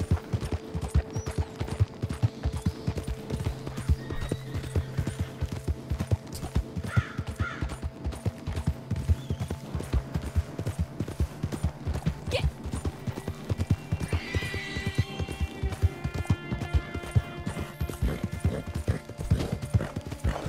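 A horse gallops in the Red Dead Redemption Online video game, its hooves making steady, rapid clip-clop beats throughout. The animal neighs briefly partway through, and crow caws sound faintly in the background.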